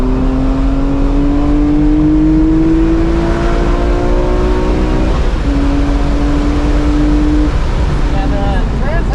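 Track-prepped 2005 BMW E46 M3 Competition with a 6-speed SMG gearbox and CSL tune, heard from inside on a track: a loud, continuous engine drone climbs in pitch, breaks briefly midway with a rev blip on the downshift, then pulls again.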